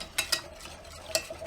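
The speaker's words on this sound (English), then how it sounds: "You turn it on and stir that up and get the cornstarch good and stirred up." Cornstarch and milk being stirred in a pot on the stove for giblet gravy, a few quiet scraping strokes of a utensil against the pan.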